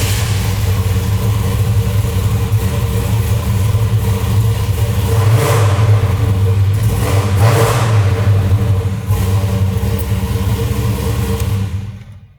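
A car engine fitted with Edelbrock Pro-Flo 4 fuel injection fires up and runs loud and close, rumbling with a few rising revs before cutting off abruptly at the end.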